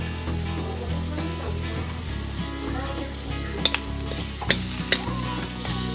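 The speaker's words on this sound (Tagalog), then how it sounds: "Haluin lang natin." Ground pork stirs and fries in a pan with black pepper while bean sprouts are sautéed, giving a steady sizzle, spatula scrapes and a few sharp clinks near the end. No one speaks.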